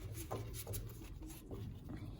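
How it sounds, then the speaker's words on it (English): Tarot cards are shuffled by hand close up, giving a run of soft papery riffling and rubbing bursts with no talking. "I'm gonna shuffle on the side here."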